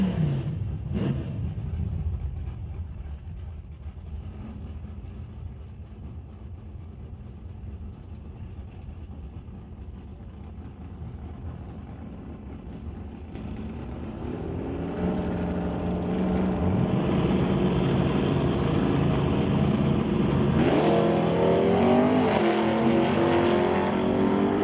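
Drag racing cars, a Chevrolet Nova and a Plymouth, in an ET series pro bracket race: a loud, steady engine roar thickens midway, then rises into a climbing revving whine near the end, with no talk.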